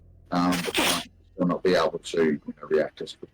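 A single sharp sneeze bursts out loudly near the microphone during a tabletop role-playing game session, followed by a person talking.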